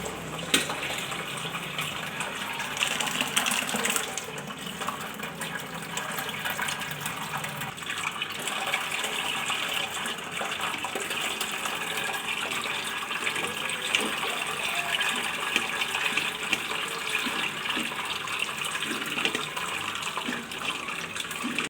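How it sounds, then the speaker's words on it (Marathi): Liquid wheat starch for kurdai is strained through a sieve into a container below. A steady, loud pouring and splashing stream continues for the whole stretch without pause. "चिक गाळण्यासाठी इथं आता मी अशी चाळणी घेतलेली आहे आणि खाली डबा ठेवलेला आहे"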